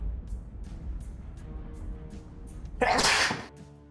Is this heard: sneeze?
yes